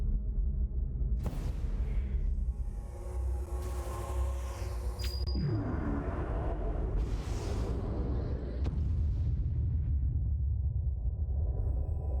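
Quantum torpedoes launch and explode in a Star Ocean: Till The End Of Time space battle, a loud sustained rumbling blast with a sharp high tone and sweeping roar, continuous and dense throughout.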